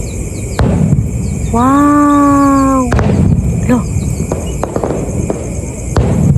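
Outdoor neighborhood fireworks going off in sharp separate bangs at irregular intervals over a constant crackling wash. A person exclaims loudly between the blasts.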